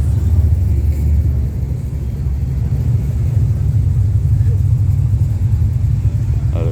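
A Ford performance vehicle in an Australia Day car parade at Hastings rumbles with a steady, deep engine drone, loud and close throughout with someone talking over it.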